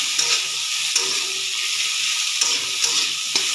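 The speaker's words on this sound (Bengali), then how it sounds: "এটাকে একটু ভাজা ভাজা করে নেব" Spinach with tomato and peas frying in a pan, a continuous soft sizzle broken by several sharp stirring scrapes and clicks, close up with no talk.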